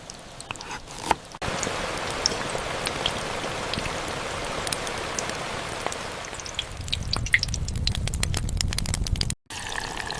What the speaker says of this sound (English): The rain makes it better.